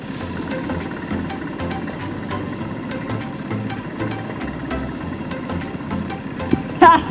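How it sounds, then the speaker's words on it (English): A Royal Enfield motorcycle engine runs steadily with a low, continuous rumble throughout, a brief louder burst near the end. "the royal ride on the Royal Enfield with me"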